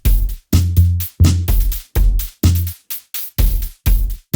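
Acoustic drum version of the HOBBES micro sequencer's Auto Road pattern, with booming kicks and crisp snare and cymbal hits in a steady driving loop, loud and close with no voices.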